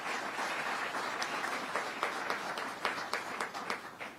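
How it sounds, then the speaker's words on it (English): An audience applauds at a regional economic development council event, a dense, steady wash of clapping heard from within the room that holds for several seconds without voices. "Let's give them a round of applause."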